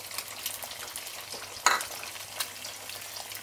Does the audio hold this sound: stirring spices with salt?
yes